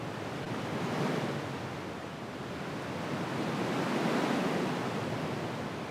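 Broadband filtered noise shaped like ocean surf, a steady wash that swells and recedes gently, loud and continuous with no voices.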